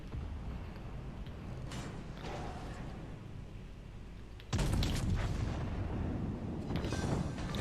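Secondary guns aboard the battleship USS Massachusetts fire in World of Warships Legends, several dull booming shots and mechanical creaks over a low rumble, with a louder sustained barrage in the second half.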